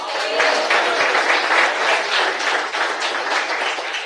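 A church congregation claps together during a sermon, a dense, even wash of hands at close range that holds steady for several seconds with no voice over it.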